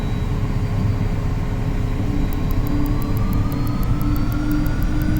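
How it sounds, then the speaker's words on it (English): Twin jet engines of a Learjet 35A in a flight simulator game roll down the runway for takeoff, a steady loud rumble with a thin whine slowly rising in pitch and rapid faint ticking from the cockpit. "So it's going to be a rolling takeoff here, guys"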